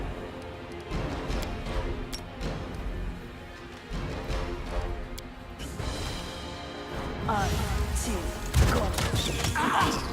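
Magic Missile spell cast by a wizard in Pathfinder: Kingmaker, dense layered magical impacts and crashes over game music and effects, loud and continuous, with a sharper burst toward the end.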